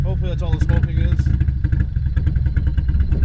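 A Nissan 240SX's SR20DET engine runs roughly and unevenly as it fails to idle, with an open downpipe exhaust. The close, rattly engine noise sits under someone talking.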